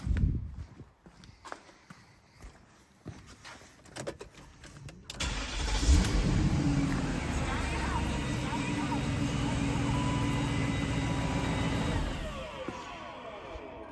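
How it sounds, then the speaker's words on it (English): A car engine cranks briefly and catches on power from a TOPDON JS3000 jump starter, then settles into a loud, steady idle close by. Footsteps and handling noises come first, and there is faint talk around them. "we'll just go and crank it over and just see how well it starts"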